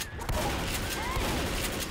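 Rapid bursts of gunfire from the zombie shooter game Left 4 Dead, dense and loud throughout with overlapping shots and game noise, and a faint voice in the background.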